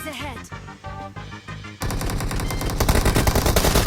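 Rapid automatic gunfire in the mobile battle-royale game PUBG Mobile, a loud sustained burst of closely spaced shots that follows a brief stretch of game sound and speech.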